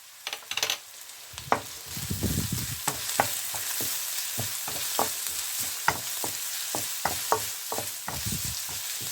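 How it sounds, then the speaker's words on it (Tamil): Green chili and curry leaves fry in a hot pan for podi idli, with a steady crackling sizzle punctuated by sharp pops and spattering bursts, loud and close with no talking. "நான் ஒரு பச்சை மிளகாயும் கருவேப்பிலையும் இதோட சேர்க்கிறேன்"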